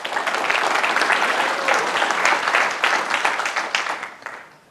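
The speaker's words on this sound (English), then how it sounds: "Please give him a round of applause." An audience at a talk on budget CNC machining applauds the speaker, giving a full, steady round of clapping close and loud throughout before it trails away at the end.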